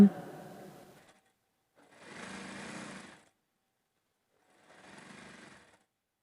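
A sewing machine fitted with a gathering presser foot stitches fabric in three short, rapid whirring runs separated by pauses, close and moderately loud.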